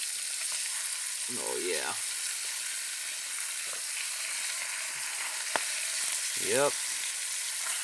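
Brook trout fries on a twig stove with a steady, close, loud sizzle that fills the whole stretch, while someone briefly speaks twice over it.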